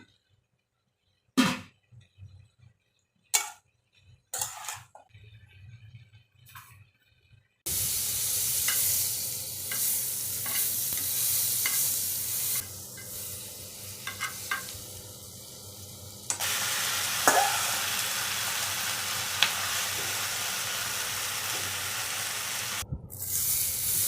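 Chicken pieces hit a hot pan with red chili sauce and soy sauce, and a loud, steady sizzle follows. A few sharp stirring clatters come before it, and the frying goes on without speech.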